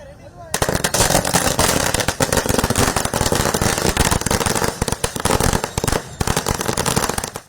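Strings of firecrackers burst during a lawyers' celebration procession, a loud, dense, continuous rattle of rapid cracks and pops that fills the whole stretch after a brief quieter start.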